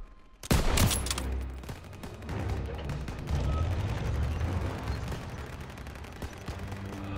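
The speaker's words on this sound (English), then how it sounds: "They're taking fire from behind!" Heavy gunfire in the World War II game Call of Duty: WWII, opening with a loud blast followed by continuous rattling shots and rumbling explosions in a street battle.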